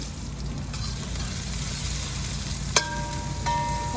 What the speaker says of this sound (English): Oh, it's sizzling away really nice.